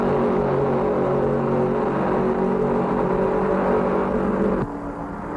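A 1967 NASCAR Grand National stock car at full throttle during the Southern 500 makes a loud, continuous engine roar with a droning, harmonic tone that drops off sharply near the end.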